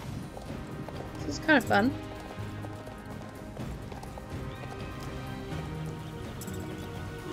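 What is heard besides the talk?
horse hooves galloping in a race, Star Stable video game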